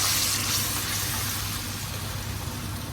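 Water poured into a pan of burger steak, a steady close broadband gush with low hum underneath, continuous for the whole stretch without a break.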